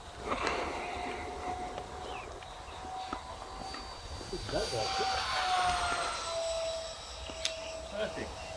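A 3D printed model jet with an electric ducted fan flies at half throttle, its thin whine rising and fading as it passes, faint and distant under quiet outdoor noise.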